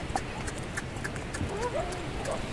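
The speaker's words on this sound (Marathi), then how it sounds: "आता आपण घोडेसवारी करणार आहोत याच्यावरती" A horse ridden along Murud beach, its hooves clip-clopping in a steady gait with what may be a brief whinny, while voices are heard in the background.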